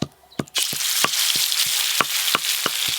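Ground spice paste of bottle gourd leaves frying in hot oil with asafoetida for a village-style boal fish curry: a loud, continuous sizzle broken by sharp spatters and the scrape of stirring, with no talk.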